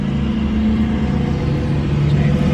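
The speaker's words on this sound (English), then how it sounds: "Car! Everyone get out of the street!" A car engine rumbles steadily and loudly as the vehicle drives along the street close by, a continuous low drone with no talking.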